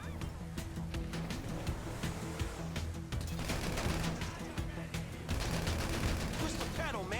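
Rapid bursts of gunfire from a car chase in GTA V, repeated cracks layered over engine and road noise, loud and close throughout, with no pause in the shooting.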